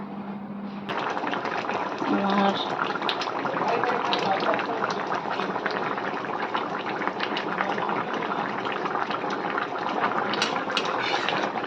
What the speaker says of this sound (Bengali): এই দেখো মাছটাও ঝোলে বেশ অনেকক্ষণ ধরে ফুটে গেছে